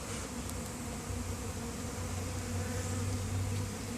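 A dense, continuous buzz of many bees fills the air close by as a swarm moves into a new hive in a bee garden, steady and unbroken with no voices.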